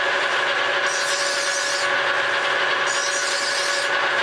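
Metal being hand-filed on a machine, with filings dropping onto the ways: a steady, close rasping with a stroke roughly every second, continuous throughout.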